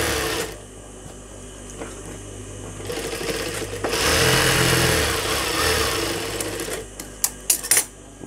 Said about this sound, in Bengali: এই পাশে দুইটা সেলাই দিবেন